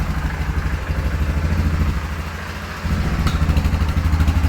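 A Yamaha Grizzly ATV engine idles after a carburetor cleaning, a loud, close, rhythmic low thumping that dips briefly in the middle, then picks back up steadily.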